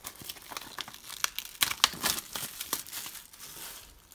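Blu-ray packaging for a Godzilla disc being torn open by hand with no cutting tool: a run of close, crinkly ripping and crumpling bursts, peaking in the middle and trailing off into softer rustling.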